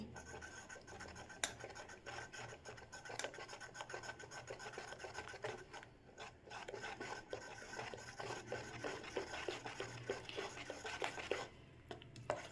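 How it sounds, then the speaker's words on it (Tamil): Steady scraping and rubbing of a spoon stirring semolina batter with salt in a bowl, a continuous close rasping texture with brief louder strokes throughout. "உப்பு சேர்த்து நல்லா மிக்ஸ் பண்ணிக்கலாம்"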